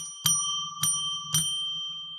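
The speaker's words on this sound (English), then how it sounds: "ring a bell 3 times to declare sacred space" A bell struck three times at a steady, unhurried pace. Each strike rings out clearly, close and fairly loud, and lingers with a sustained shimmering tone.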